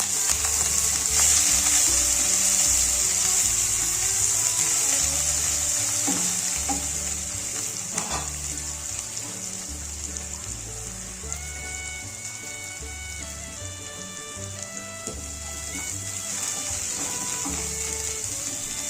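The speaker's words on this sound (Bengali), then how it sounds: "পেঁয়াজটাকে আমি লাল লাল করে একটু ভেজে নেব" Chopped onions and cumin seeds fry in hot oil with a loud, continuous crackling sizzle close up. Faint stirring and a low tonal hum sit under it throughout, with no talking.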